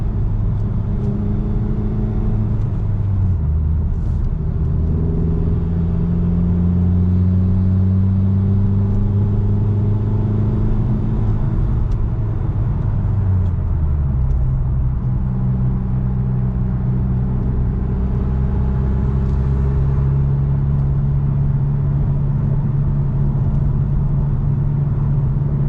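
A Honda Civic FK2 fitted with a Tegiwa B pipe exhaust drones steadily while driving, a loud, continuous low engine rumble that rises and falls gently with speed, with no voices.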